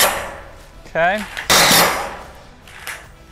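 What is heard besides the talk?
impact drill driving framing screws into roof panels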